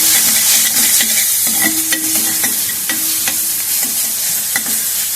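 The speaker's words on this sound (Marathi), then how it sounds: "लसूण अद्रक कोथिंबीरची पेस्ट छान मिक्स करायची आहे" A garlic, ginger and coriander paste with a pinch of asafoetida is stirred in a hot pan for Mumbai-style vada pav. A loud, continuous sizzle carries repeated scraping strokes of a spoon close up.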